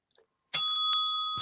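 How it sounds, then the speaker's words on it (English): A single bright bell strike rings out after a brief silence, its clear metallic tones sustaining and slowly fading, with a faint second tap near the end. "I like this bell sound."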